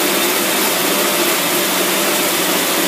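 Boat engine surging and running on only one side, a loud, continuous broadband roar with a steady hiss that stays close and unbroken throughout, no voices over it.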